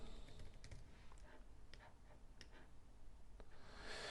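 Very quiet typing on a computer keyboard, a scattered run of soft key clicks at an irregular pace, faint and alone.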